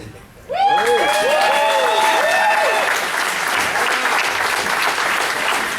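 At a media day unveiling a dive roller coaster at an amusement park, a crowd bursts into loud applause and cheering. Whoops and whistles ride over the opening seconds before settling into sustained clapping.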